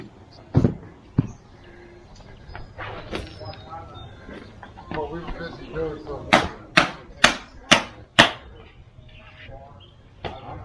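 A hammer strikes a stamping tool while decorating a leather case, landing a quick run of about five loud, sharp blows after softer tapping and handling noises, with a voice talking in between.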